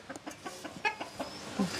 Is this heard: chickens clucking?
yes